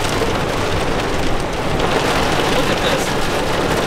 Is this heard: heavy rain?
yes